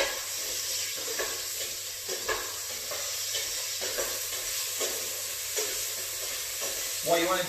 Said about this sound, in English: get that in the mix, get that cooking away, get that stirring